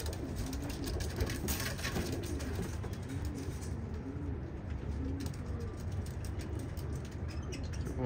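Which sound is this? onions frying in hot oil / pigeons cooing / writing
pigeons cooing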